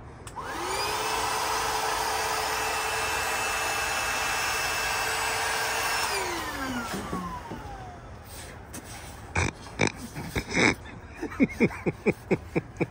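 Electric air pump inflating an inflatable item for an ARE truck-bed topper camper on a Ford F-150 Lightning, a steady loud motor drone for about six seconds that winds down, followed by scattered clicks and thumps.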